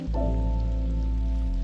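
Steady rain in Ghent, a dense even hiss of falling water that holds at constant strength for the whole short stretch, with no voices.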